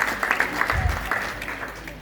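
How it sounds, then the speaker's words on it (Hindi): A crowd claps at a school opening ceremony to welcome the PWD team onstage, with dense, steady applause from start to finish and a voice speaking over it. "इनके लिए जोरदार तालियां"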